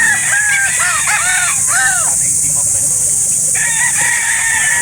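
Roosters crow again and again at a busy chicken market in Calauan, Laguna, several loud calls overlapping in the first half, with clucking fowl and a constant hiss of crowd noise. Voices talk in the background.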